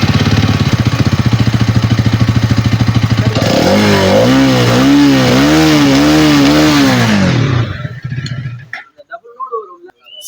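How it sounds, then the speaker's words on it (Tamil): Hero Xtreme 250R motorcycle revving hard, a steady buzzing idle giving way to several rising and falling throttle blips of the exhaust, loud and close, then cutting off abruptly into near silence with faint background noises. "இந்த வண்டியோட எக்ஸாஸ்ட் நோட்டு"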